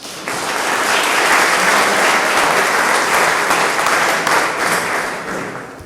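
Sustained, full-bodied applause fills the room at an ocean champions awards ceremony, starting abruptly and continuing evenly for several seconds before beginning to fade.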